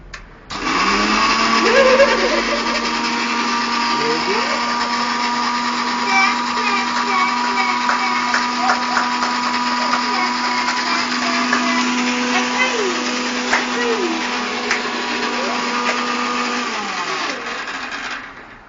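A mixer grinder whirs loudly and steadily for most of the clip, a high motor drone that starts abruptly and winds down at the end.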